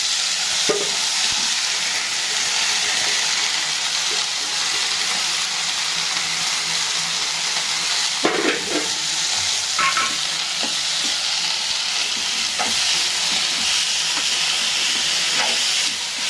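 Banana flower stir-frying in a pan with onion, dried red chillies, cinnamon and curry leaves, a loud continuous sizzle and hiss with occasional scraping stirs, close up and without talk.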